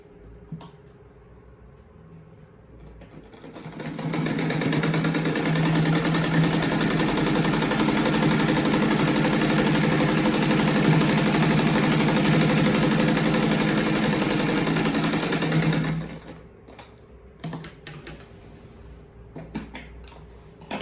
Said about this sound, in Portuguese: daí eu vou costurar aqui